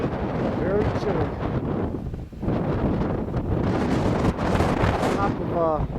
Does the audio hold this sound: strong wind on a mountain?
yes